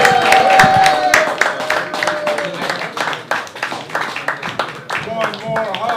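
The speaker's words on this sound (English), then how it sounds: "Please give a big round of applause to Jake Jank!" Audience at a stand-up comedy open mic applauding and clapping, with individual claps close by and voices talking and calling out over them.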